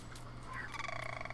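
A bird outdoors in rural Kentucky lets out a quick, bubbling gobble-like call, close and clear above a steady low background hum.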